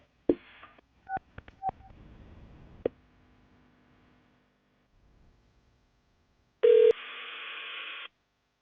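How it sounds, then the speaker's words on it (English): Quiet phone keypad tones beep in a quick series, followed by a pause and then a loud ringback tone on the line. "I'm going to dial her phone number right now"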